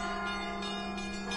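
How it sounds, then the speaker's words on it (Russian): Church bells ring out at noon across a broad, sustained wash of overlapping tones, loud and dense with strikes blending into a continuous shimmering peal. "в каждом храме начинают звонить колокола"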